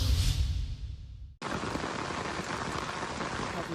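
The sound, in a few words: heavy rain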